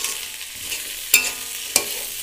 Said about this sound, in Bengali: করলাগুলো দিয়ে দিলাম, দিয়ে আমি একটু কষিয়ে নেব, করলাগুলো একটু ভেজে নেব,